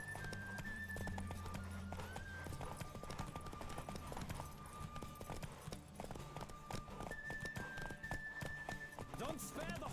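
Rhythmic hoofbeats of a galloping horse in The Witcher video game, steady and close, mixed with game sound effects, tonal music and occasional voices.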